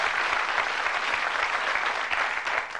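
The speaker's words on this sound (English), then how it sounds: "Give them a nice round of applause as they go off." A television game show studio audience claps steadily in a dense, sustained round of applause, with no voices over it.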